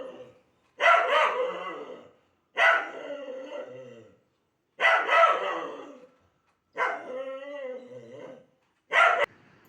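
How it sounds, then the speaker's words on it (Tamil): A house dog barks in loud, separate bursts, five rough barks spaced a second or two apart with near-silence between them, set off by the smell of chicken. "நம்ம வீட்டு நாய் வந்து வாசம் பிடிச்சிருச்சுங்க அதனால் வந்து அது கத்தறக்க ஆரம்பிச்சிருச்சு"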